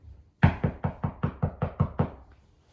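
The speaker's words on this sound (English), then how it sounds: "At last, there came a knock at the door." A rapid series of about nine firm knocks on a wooden door, evenly spaced and close, ringing out alone and fading slightly at the end.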